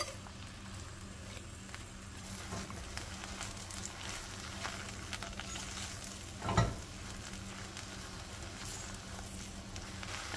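Eggplant and nigella seeds frying in hot mustard oil, giving a soft, steady sizzle with faint crackles and one brief louder clatter midway.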